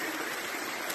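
Rainwater runs hard over a washed-out hiking trail on the Appalachian Trail during steady rain, a loud, continuous rushing wash heard close up with no voices.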